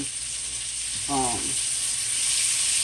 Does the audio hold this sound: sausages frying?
yes